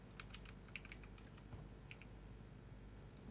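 Faint keystrokes on a computer keyboard while writing code, a loose cluster of light clicks followed by a few scattered taps over a quiet, hissy room background.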